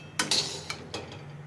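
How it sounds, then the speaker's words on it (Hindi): A utensil clinks against a kadhai wok while peanuts and makhana (fox nuts) dry-roast over a low flame: four or five sharp, close metallic taps spread over a quiet background. "तो जी सबसे पहले हमने कढ़ाई में डाल ली जी मूँगफली के दाने और मखाने।"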